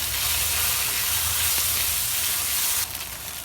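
Fish sizzles steadily in hot oil in a pan, a dense continuous frying hiss close to the mic that drops slightly near the end.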